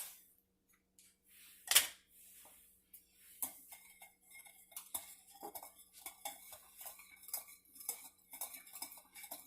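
A utensil mixes dinner roll dough with vegetable oil in a bowl, giving quiet, close clicks and taps against the side in an uneven rhythm, with one sharper knock early on and otherwise faint, sparse contact sounds.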